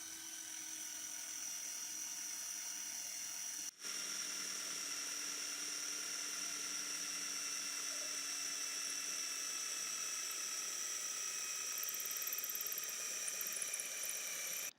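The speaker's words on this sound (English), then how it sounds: "It has no difficulty drilling through any type of wood" A Xiaomi Tonfon power drill whines steadily at high pitch while boring into wood, a sustained motor tone with two brief cuts in power, running alone without talk.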